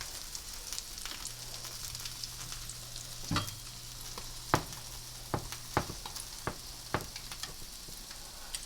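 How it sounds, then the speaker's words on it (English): Food frying in oil in a pan with spinach nearby, a steady close sizzle broken by several sharp crackles and pops; no talking. "let it fry nice and golden on that side"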